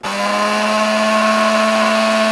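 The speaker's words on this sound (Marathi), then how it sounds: "तर पाणी टाकून आपण फायनली मिक्सर परत एकदा चालू केला आहे बघू शकता तुम्ही." An electric kitchen mixer grinder, with water added to a mixture in its jar, starts abruptly and runs at a loud, steady, high-pitched motor whine close by, with no talk over it.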